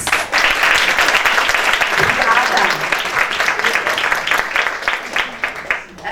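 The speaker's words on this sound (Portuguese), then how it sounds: "Uma salva de palmas." An audience at a neurodiversity talent event in Rio applauds steadily for about six seconds, a dense, loud wash of clapping that fades slightly near the end.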